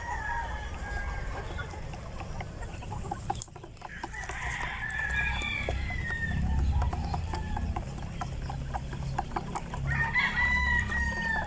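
Free-range chickens cluck steadily nearby on a Philippine farm while a rooster crows several times across the clip, with farmyard background noise.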